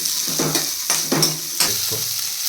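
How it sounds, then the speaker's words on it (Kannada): Red onions sizzle in a pan as a spoon stirs them, several distinct scraping strokes rising over a constant close frying hiss. "ಆಮೇಲೆ ಸ್ವಲ್ಪ ಈರುಳ್ಳಿ ಹಾಕ್ತಾ ಇದ್ದೀನಿ ಕೆಂಪು ಈರುಳ್ಳಿ"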